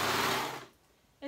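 Serger overlock machine stitching a cardigan seam, a short fast mechanical whir that fades out after about half a second, followed by a brief click.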